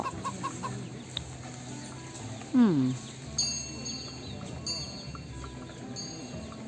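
A hen and a rooster make a loud, brief clucking squawk and a few fainter clucks in an outdoor farmyard, with a person murmuring nearby.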